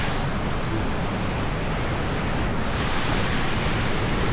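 Basket Falls pours in a continuous broadband roar of falling water, steady and fairly loud from start to finish, with no voices.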